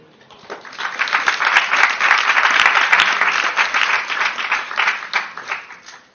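An audience at a Hindi devotional talk on Krishna claps together, the applause swelling quickly, holding loud and dense for several seconds, then tapering off near the end, with no voices over it.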